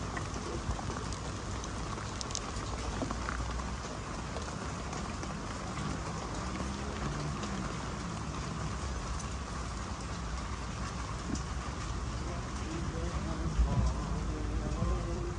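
Heavy rain pours steadily during a flood in Jakarta beside a riverbank, a dense unbroken roar of falling water with occasional louder splashes and no pauses.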